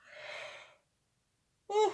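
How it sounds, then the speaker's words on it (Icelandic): A woman's breathy yawn, a soft drawn-out exhale, then after a pause a short voiced sound, quiet and close. "alltaf skal hún geispa"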